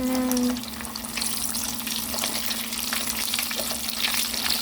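Eggs sizzle and fry steadily in a hot pan for chilaquiles, a close, constant crackle with a brief tonal hum at the start and faint scraping as they are flipped.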